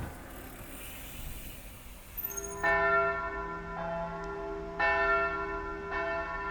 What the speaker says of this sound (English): bell chimes rang out as the town drifted to sleep